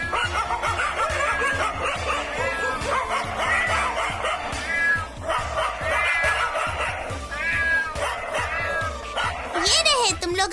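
Cartoon dogs barking and yipping with cats meowing, several animals calling at once in a busy chorus at steady loudness throughout, in an animated kids' show.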